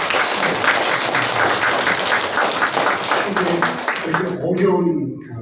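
A church congregation claps together for a deacon who has stood to greet them, a dense steady patter of hands with voices mixed in, thinning toward the end.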